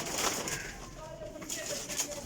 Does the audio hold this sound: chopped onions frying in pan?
no